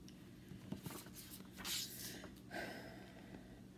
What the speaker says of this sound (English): so I'm just going to cut out my template here